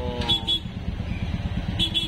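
Road traffic in a jam at night, with car and motorbike engines idling and rumbling nearby and a couple of short horn toots cutting through the steady low drone.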